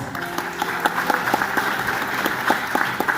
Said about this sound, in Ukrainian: Павло Григорович, оплески для вас.